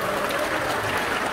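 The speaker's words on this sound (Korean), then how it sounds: "박수 한번 주세요." An audience at a Gwangju Star Club party claps, a brief burst of scattered applause at moderate volume with no talk over it.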